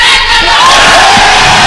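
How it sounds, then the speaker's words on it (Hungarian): A handball crowd in Pécs roaring a loud, sustained battle cry together, a massed wall of voices that swells and holds. "Most jön a csata kiáltás."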